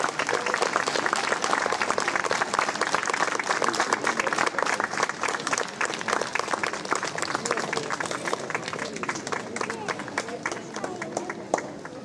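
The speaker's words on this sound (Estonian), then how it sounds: "teeme neile ühe suure ja tormilise aplausi" Big, sustained applause from an outdoor crowd at a village festival day honoring a local drama group and song teachers, dense steady clapping throughout with a voice speaking over it.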